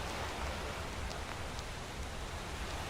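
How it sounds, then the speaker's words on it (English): Rain ambience in the Enderal video game, a Skyrim mod, a soft continuous hiss of falling rain with faint scattered drops, quiet and steady with no voices. "I love the little rain sound effect they have."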